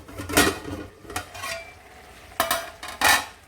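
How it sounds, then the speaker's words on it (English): Utensil stirring carrot pickle in a pan on the stove, several short scraping strokes against the pan with soft sizzling cooking underneath, no talking. "Give it a quick stir and let this cook for about 20 to 30 minutes on medium-low heat."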